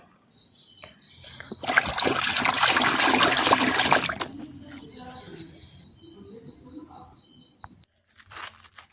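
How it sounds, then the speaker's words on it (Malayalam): A mugful of water pours and splashes onto dry potting soil for a few seconds, while crickets chirp steadily in the background. "അത് ആ പൊടി നനയാൻ വേണ്ടിയുള്ള വെള്ളം അങ്ങോട്ട് ഒഴിക്കണം"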